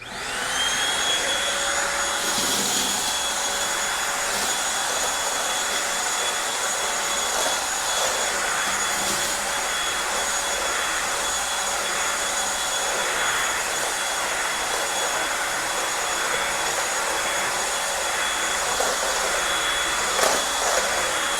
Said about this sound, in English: this thing did a great job at vacuuming up the carpet